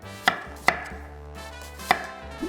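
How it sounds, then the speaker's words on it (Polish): A knife cuts an eggplant into not-too-thick slices on a board, three sharp, close chops spaced unevenly with quiet pauses between them. "I teraz już możemy kroić bakłażan. Kroję plasterki nie za grube."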